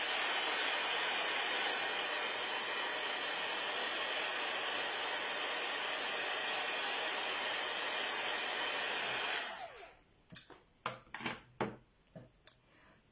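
A heat tool blows a steady, loud hiss as it dries acrylic paint on a painting, running continuously for about nine seconds before cutting off, followed by a few scattered clicks and taps.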